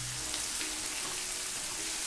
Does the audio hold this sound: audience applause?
no